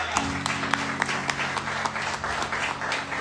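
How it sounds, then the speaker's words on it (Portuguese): A church congregation applauds the Lord with steady, rhythmic clapping over a sustained musical drone. "Dê uma salva de palmas ao Senhor"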